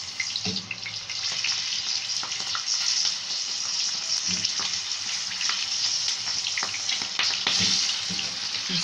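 Peppers sizzle loudly and steadily in a hot frying pan while being stirred. Occasional scraping and stirring noises rise over the constant close hiss, and there is no talking.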